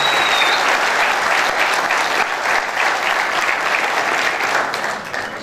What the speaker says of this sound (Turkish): Dilindeki genç bozkurtlara kuvvetli bir alkış rica ediyorum.